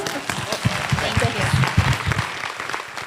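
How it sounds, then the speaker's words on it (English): Audience applause at a personal-development summit, a dense wash of clapping from a crowd with a few louder claps standing out, steady for about three seconds with some voices mixed in. "Everybody give Amberly a round of applause."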